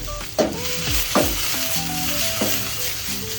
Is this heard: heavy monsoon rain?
no